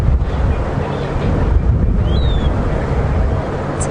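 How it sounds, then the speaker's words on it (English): Wind gusting through balanites trees in the Djuma Game Reserve, a loud, steady rushing roar buffeting the microphone, with a faint bird chirp briefly breaking through. "the balanites tree gusting in the wind"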